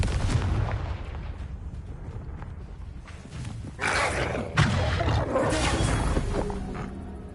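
A Confringo blasting spell bursts in Hogwarts Legacy: two sharp, loud blasts land a second apart, each leaving a roaring, crackling wash over a low rumbling game backdrop.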